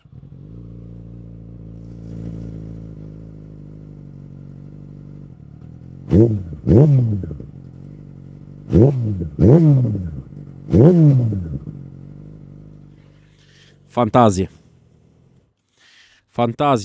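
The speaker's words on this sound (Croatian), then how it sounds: "Da čujete pesmu koju proizvodi ovaj lepi motor." A 2008 Yamaha R6 sport motorcycle with an Akrapovič exhaust idles with a low steady rumble, then revs sharply several times in quick bursts, close by, with a final few rapid blips.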